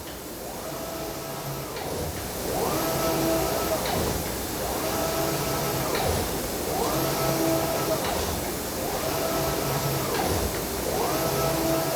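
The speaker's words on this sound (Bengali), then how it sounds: "এখন কামিজের ফ্রন্ট পার্ট প্রিন্ট হচ্ছে" A textile printing machine printing the front panel of a kameez in a garment factory, running in a steady repeating cycle of whirring sweeps about every two seconds over a constant mechanical hum, loud and close.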